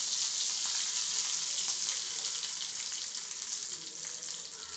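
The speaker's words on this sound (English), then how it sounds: "I'm just putting it a very simple tempering of mustard seeds and some curry leaves" Mustard seeds and curry leaves sizzle in hot oil for a dhokla tempering, a steady bright frying hiss with faint crackles, close and continuous with no voices.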